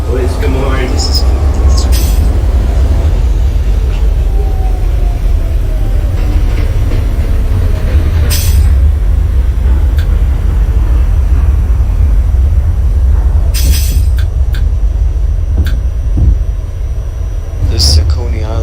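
An NYC Subway R68 train runs along the West End line in the OpenBVE train simulator, giving a steady loud rumble and roar of wheels and motors throughout, with a few brief squeals and clanks along the way.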